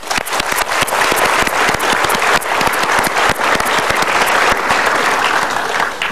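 Loud, sustained audience applause from a large studio crowd, dense overlapping claps with sharp individual hits, steady throughout with no talking.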